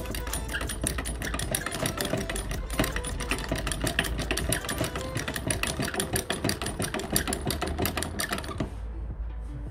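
Rhythmic mechanical clatter from a hydraulic floor jack being pumped during repair and air bleeding, a steady fast repeated ticking that stays loud and close throughout before cutting off near the end.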